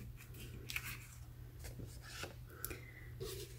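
Scissors snipping through card stock at close range, a series of short crisp cuts with light rustling between them, faint and steady with no voices.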